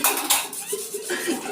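Dishes, pots and cutlery clatter as they are gathered up for washing late at night at home, with quick metallic clinks and scrapes close by and no speech.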